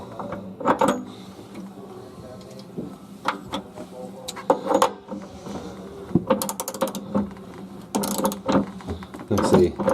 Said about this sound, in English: then we want to snug it up with our ratchet